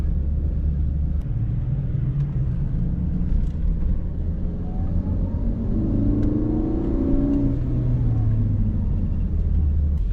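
A car engine running at low speed and settling into idle, with a steady low rumble and a faint, slowly shifting drone throughout.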